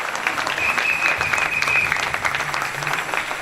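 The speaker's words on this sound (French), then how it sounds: "Acclamons la parole du Seigneur." Church congregation applauding together, a steady dense clapping that holds evenly throughout at moderate loudness with no voices over it.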